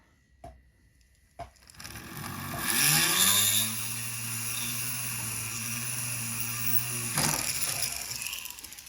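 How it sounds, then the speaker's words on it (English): A couple of clicks, then a flex shaft drill spins up with a rising whine, holding a steady high-pitched buzz while enlarging a pilot hole for a tube rivet before winding down. "I'm going to use that pilot hole as a guide, and I'm going to drill a bigger hole"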